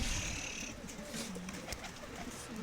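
Pigeons of the Adana breed cooing softly in a loft, low rounded coos repeating a few times, faint and close against a light background hiss.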